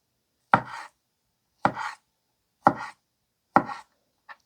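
A Yotsuba Damascus kitchen knife with a rosewood handle chops food into cubes on a board: four crisp, evenly spaced chops about a second apart, then one light tap, close and alone.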